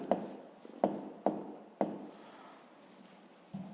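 Writing on paper while working a fifth-grade maths exercise: four crisp, quiet strokes tapping down in quick succession, followed by a softer, steady scratch of the pen tip and one last short stroke near the end.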